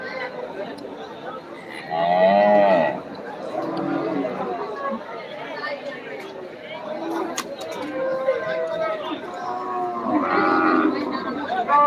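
Beef cattle low loudly at the crowded Deohata cattle market, one long, strong moo rising above a steady hubbub of nearby voices and market chatter that continues throughout.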